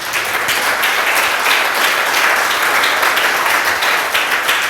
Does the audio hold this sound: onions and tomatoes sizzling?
no